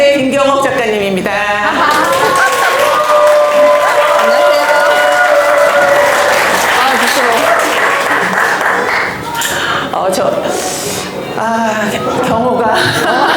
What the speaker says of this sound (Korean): 시간은 짧지만 박수는 우레와 같이 쳐주세요